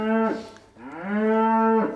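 A young heifer in a barn lets out two drawn-out moos in quick succession, the first brief and the second longer and rising, loud and close with little else around.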